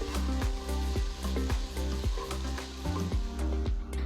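Potatoes and cauliflower florets sizzle and fry in a pan for a vegetable rice pulao, with steady loud frying and rhythmic clanks and scrapes of stirring and mixing.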